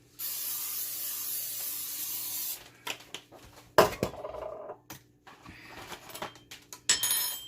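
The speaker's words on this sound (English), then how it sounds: "I'm going to spray it with my spray." A steady hiss of cooking spray onto a pan on medium heat for about two seconds, then the pan clinks and rattles in short, scattered knocks.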